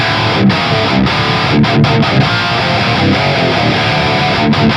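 Heavily distorted electric guitar run through a Hardball amp simulator modeled on the Engl Powerball 2, playing dense, loud chugging riffs with brief palm-muted gaps throughout.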